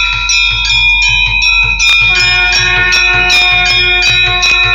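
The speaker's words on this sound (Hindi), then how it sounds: "उसी समय घंटी बजनी चालू हो गई।" A bell rings repeatedly at a Bhagavat katha religious gathering, with bright metallic strikes in a quick, uneven rhythm and long shimmering overtones over a steady low hum.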